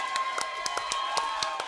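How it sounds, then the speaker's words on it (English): A studio audience at a televised political panel show in Auckland gives a round of applause, heard as scattered, evenly spaced claps over a steady room murmur. "a big round of applause for Labour MP, Jacinda Ardern"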